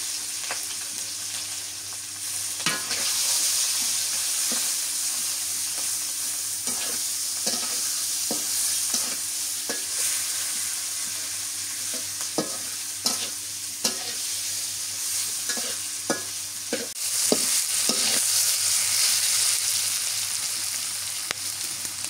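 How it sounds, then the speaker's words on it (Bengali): Onion, green chilli and garlic paste frying in a pan, a constant bright sizzle broken by repeated sharp scraping and stirring clicks, close and uninterrupted by voices. "পেঁয়াজগুলো দিয়ে দিই, কাঁচামরিচ, পেঁয়াজ, রসুন বাটা দিলাম।"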